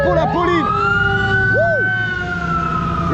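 Fire engine siren sounding loud and close, a wailing tone rising and holding steady with brief whooping yelps, under a low engine rumble and some background voices.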